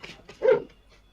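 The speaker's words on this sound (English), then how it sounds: "I think the dogs were having an argument. Yeah, my labs got into it." Labrador dogs let out a short burst of growling, yelping barks in a scuffle, one loud close yelp in the middle flanked by quieter snarls, with no talk over it.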